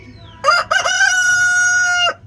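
A rooster gives one loud, close crow lasting nearly two seconds, with a short broken start and then a long held note, among farm chickens kept for organic eggs.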